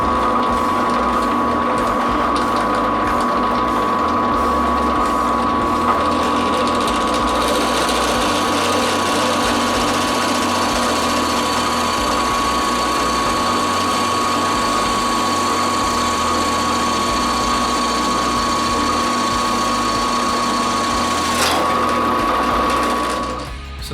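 A China-made national-brand high-steel brad point bit bores into wood, giving a steady, loud mechanical whine with a constant pitch that runs unbroken for over twenty seconds before cutting off at the end.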